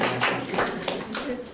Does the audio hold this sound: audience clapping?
yes